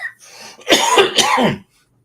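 A single harsh cough, a couple of rough bursts in quick succession, close and alone with silence after.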